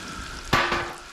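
Mushrooms dropped into a hot pan on a stove, a sudden loud burst of sizzling that settles into a steady crackle, close by and with no talking.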